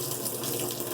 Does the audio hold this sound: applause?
no